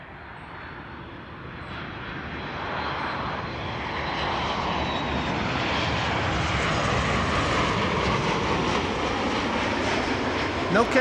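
Engines of a Dutch-registered Boeing 737 Max 8, five years old, roar steadily and grow louder over several seconds, a broad sustained rumble close by and dominating throughout.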